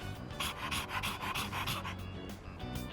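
A dog in the Persona 3 Reload video game pants in quick, rhythmic bursts of breath. The panting is close and fairly loud, briefly pauses, then resumes.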